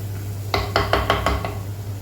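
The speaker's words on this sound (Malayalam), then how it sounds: "ഇത് നമ്മൾ തുറന്നു വെച്ചിട്ട് തന്നെ ഇത് നമ്മളൊന്ന് വരട്ടിയെടുക്കുകയാണ് ചെയ്യുന്നത്" Mushrooms stir-fried uncovered in a pan, with a run of about six quick metallic scrapes and knocks of a spatula against the pan over a steady low hum, close and moderately loud, with no voices.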